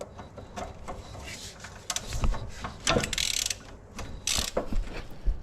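A ratchet key loosens a driveshaft support bracket screw on a Peugeot 307cc 2.0 HDI, producing close, irregular bursts of metallic clicking with short pauses between strokes.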